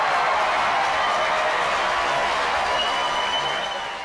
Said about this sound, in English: insert a proper round of applause this time